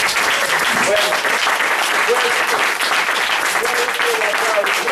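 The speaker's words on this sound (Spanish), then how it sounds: "Recibe el aplauso de tus hijos." A church congregation applauds loudly and steadily for a few seconds. The dense clapping is mixed with faint voices.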